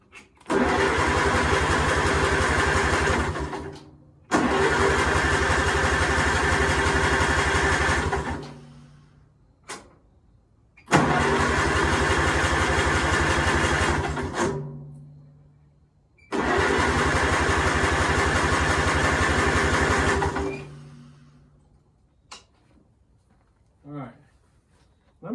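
A Farmall tractor engine cranked with choke, turning over in four long starter bursts of several seconds each, separated by pauses, with a few brief clanks at the end; loud and close.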